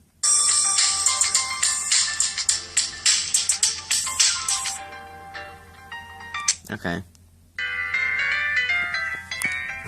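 LG Wine II flip phone playing several ringtones in turn: bright electronic chime melodies ringing loud and close, one stopping for a brief pause before another tune starts, with a person speaking briefly between them.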